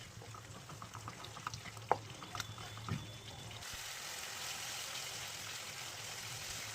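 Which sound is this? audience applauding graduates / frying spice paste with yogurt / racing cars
frying spice paste with yogurt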